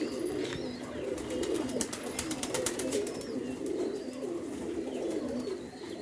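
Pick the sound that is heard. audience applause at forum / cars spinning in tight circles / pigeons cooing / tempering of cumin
pigeons cooing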